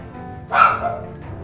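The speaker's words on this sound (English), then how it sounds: "I apologize for the dogs." A single close dog bark bursts out indoors, loud and brief, followed by a faint squeak before quiet returns.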